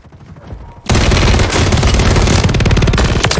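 Rapid automatic gunfire from Call of Duty: Warzone erupts after a near-silent start, a loud, dense burst of shots continuing steadily to the end.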